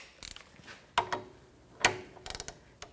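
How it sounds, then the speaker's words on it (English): Half-inch torque wrench tightening a Jeep Grand Cherokee rear shock bolt: a few quick ratcheting clicks and sharp metallic ticks in short bursts, close and fairly quiet. "I'm going to use my 1/2 inch torque wrench for this."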